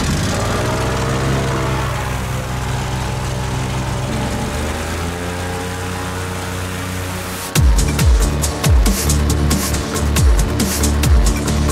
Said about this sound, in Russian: Лодки очень шумно будет,